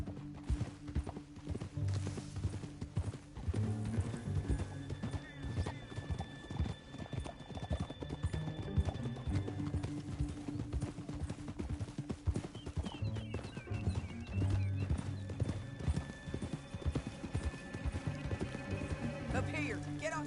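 Horse hooves clip-clop in a steady rhythm at moderate distance, with a horse whinnying and low background music running underneath.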